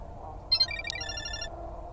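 A phone rings inside a video game, a short bright electronic trill heard once over a low background hum, fairly close and clear.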